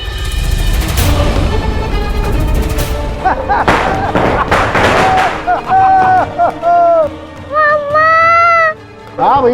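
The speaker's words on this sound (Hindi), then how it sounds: "हाँ भैया बहुत पटाखे हैं" Firecrackers set off in a row, several sharp booming bangs cracking in the first few seconds, then giving way to raised voices talking and calling out over fainter background noise.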